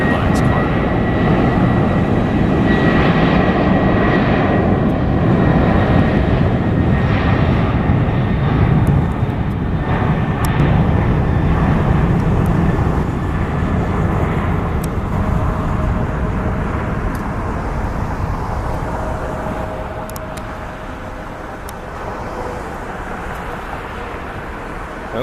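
China Airlines cargo Boeing 747 taking off at Atlanta on a windy day, a loud, broad jet engine roar that builds and then slowly fades as the aircraft rolls away, with someone talking over it.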